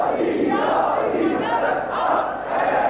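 A crowd at a Muharram majlis (religious gathering) chants slogans together, a dense, loud, continuous roar of many voices that swells and dips without pause.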